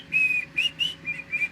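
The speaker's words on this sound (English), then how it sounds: "How do I whistle?" A person whistles a few short, clear notes in quick separate bursts, close and fairly quiet, with no other sound around them.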